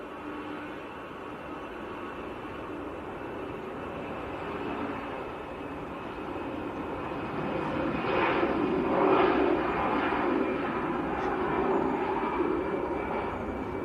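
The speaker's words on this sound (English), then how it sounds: "Sun Express is taxiing out as well." A SunExpress airliner taxiing at Manchester Airport sends a steady, broad jet-engine roar from a moderate distance that swells slightly louder toward the middle, with no talk.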